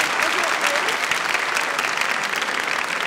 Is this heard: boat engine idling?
no